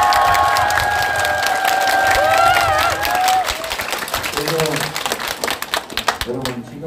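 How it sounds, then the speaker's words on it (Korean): Crowd at a Korean election campaign office opening event applauding and cheering loudly, dense clapping with shouts throughout, overlapping tones and voices mixed in. "박수 한번 서로에게."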